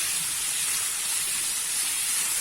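Raisins and carrots sauté in a pan for Kabuli pulao, making a loud, steady, airy hiss of sizzling that runs evenly throughout with no talking.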